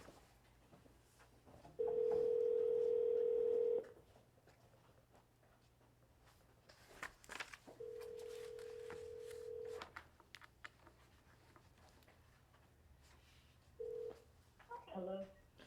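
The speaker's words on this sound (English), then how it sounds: "Okay, so I am calling Tammy Carter and Kim Neal." Dial tone and a short dialing sequence from a speakerphone in a meeting room, heard as two steady tones about two seconds each, a brief third tone and a quick run of keypad beeps, with faint room noise and quiet voices.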